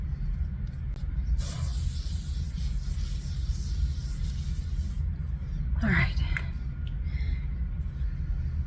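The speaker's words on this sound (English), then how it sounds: "I'm gonna spray a little bit more of this calm spray on" A facial mist spray bottle releases a short hissing mist, followed by a second quick spritz, over a low steady background hum.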